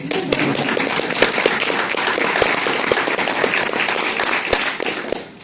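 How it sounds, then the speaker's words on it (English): Audience members at a chamber of commerce candidates' forum applaud, a dense, continuous patter of many hands in a hall, steady and fairly loud, fading a little right at the close. "You can clap if you like."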